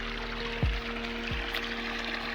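Irrigation water running into a channel in a sorghum field during the final watering, a soft continuous wash with two brief low thumps, fairly quiet and steady with no talking.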